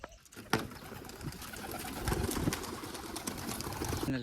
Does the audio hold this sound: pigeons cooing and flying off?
yes